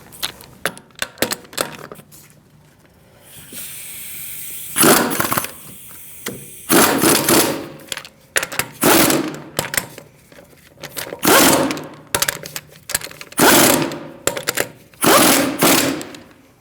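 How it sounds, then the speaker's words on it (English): Wheel lug nuts on a 2008-2014 Mercedes-Benz C300 being tightened in a star pattern, with repeated bursts of ratcheting and impact-tool rattling, loud and close, separated by short pauses. "Now we're going to snug these up. Do not over tighten. We're going to tighten them in a star-like pattern."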